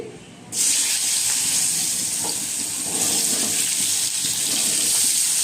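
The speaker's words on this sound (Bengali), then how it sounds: "মাছটা ভেজে কড়াতে যতটুকু তেল ছিল তার মধ্যে আমি আলুগুলি ভেজে নিচ্ছি।" Potatoes frying in leftover fish oil in a wok, a loud steady hiss that bursts in sharply after a brief quieter start and then sizzles evenly and close for several seconds.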